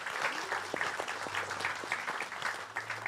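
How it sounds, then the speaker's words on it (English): Quiet, brief applause from a fan gathering for EverQuest II as a game developer is introduced, a soft patter of clapping that sounds somewhat distant over a low background hum. "A round of applause."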